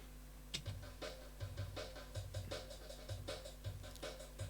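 Programmed drum beats from a software plugin driven by Hydrogen play quietly in a steady looping pattern of kicks and hi-hats over a constant low hum.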